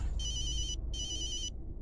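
A phone ringtone plays two short electronic bursts of trilling tones, separated by a brief gap, over low background hum.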